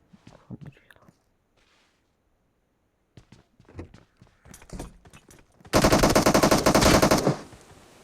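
Automatic gunfire in a tactical shooter video game, sparse single shots and short bursts leading into a loud sustained machine-gun burst of over a second near the end, with footstep-like clicks between.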